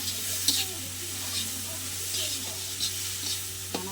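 Food fries in a pan with salt and tomato, a steady close sizzle over a constant low hum, with scraping stir strokes recurring every second or so.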